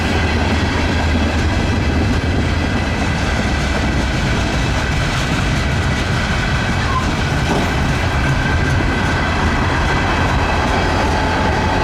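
CSX local freight train Y-162 with locomotive 6461 and a caboose used as a shoving platform rolls past in Lakeland, Florida, a loud, steady rumble and clatter of wheels on rail that continues without letup.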